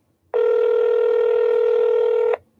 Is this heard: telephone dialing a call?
yes